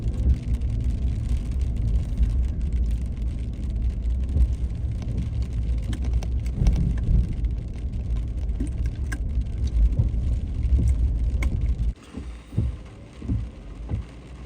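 A four-wheel drive vehicle grinds steadily along a rough, non-maintained mountain road prone to rock slides, with a loud continuous low rumble and scattered knocks for about twelve seconds before the engine noise drops away, leaving softer bumps.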